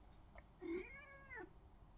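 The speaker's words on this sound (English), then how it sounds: "excuse my cat, she's not feeling very well today and she's feeling a bit needy." A pet cat with a needy, unwell manner lets out a single drawn-out meow, clear and fairly close, in an otherwise quiet room with no talking.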